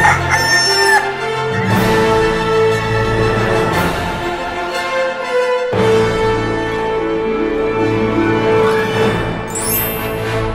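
A rooster crows loudly and stretched out over steady, busy music that carries on throughout.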